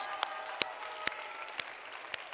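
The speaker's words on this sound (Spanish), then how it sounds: "Un aplauso para ellos." Scattered hand claps ring out from an audience at a university library's 25th-anniversary science festival, a few sharp, distinct claps spaced apart over a steady background hum.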